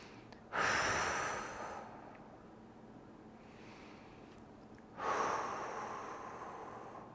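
Two slow, deep breaths drawn audibly close to the microphone during a shoulder stretching exercise, each a long airy inhale-exhale several seconds apart with quiet between.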